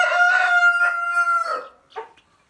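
Chicks and older young chickens on a pasture farm on hatching day call out together, a loud, dense run of bright peeping and clucking cries lasting a couple of seconds, then a brief quieter chirp near the end.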